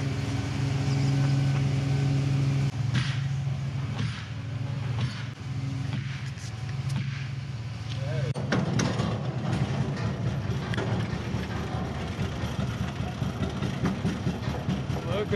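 A winch hauls a horse trailer through a pulley system rigged from the tires, a steady mechanical engine-like drone running continuously and loudly, rising in clatter partway through, with talk over it.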